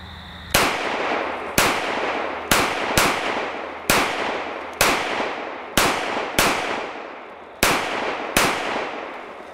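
Handgun shots fired double action, ten sharp loud reports spaced roughly a second apart, each with a short ringing decay, no talk.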